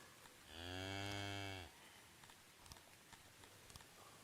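One cow lowing in the video game Songs of Syx gives a single drawn-out moo of about a second, followed by faint soft patter and clicks.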